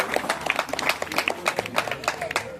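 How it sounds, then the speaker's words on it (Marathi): An audience at a Maghi Ganesh festival event in Vasai Pachubandar claps for a girl named Aarohi after her dance, a moderate burst of crowd applause with irregular individual claps. "आरोहीसाठी भरपूर टाळ्या होता जोरात सर्वांजून"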